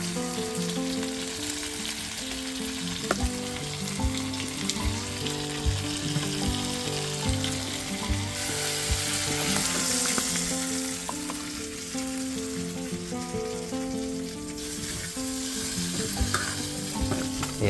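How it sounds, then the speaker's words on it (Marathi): Village-style fish frying in a pan over a wood-fired stove, a dense, loud, continuous sizzle and crackle heard up close for the whole stretch, with occasional scraping and no voices. "मस्त फ्राय झालेला आहे मासे आपले."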